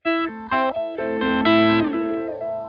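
Distorted electric guitar with an octave-down effect for the solo section, a short run of picked notes ending in a sustained bend, loud and close, with no voice.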